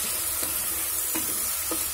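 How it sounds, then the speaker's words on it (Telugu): Tomatoes frying in a pan for a gram-flour chutney, after potato and tempering: a continuous dense sizzle with three soft stirring pulses, close up and with no voices. "ఇది ఒక నిమిషం వేగిద్దాం."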